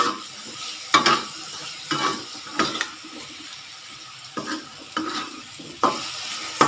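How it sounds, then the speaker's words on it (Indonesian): Jengkol frying in soy sauce in a pan, stirred with a utensil: scraping strokes recur every second or so over a steady sizzle, close and alone without speech. "Kita aduk lagi teman-teman."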